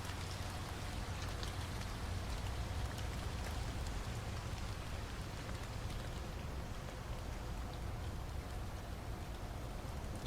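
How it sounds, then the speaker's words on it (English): Steady, moderate rain hisses and patters continuously in American Truck Simulator, an even wash of drops on the truck with a low rumble beneath and no voices. "Does seem also like the rain is starting to ease off a little bit, which is good."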